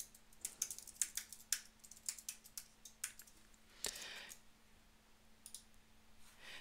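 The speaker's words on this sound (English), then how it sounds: "give yourself some text and type in anything you want" Close, fairly faint typing on a computer keyboard, with irregular quick key clicks and a short louder cluster partway through.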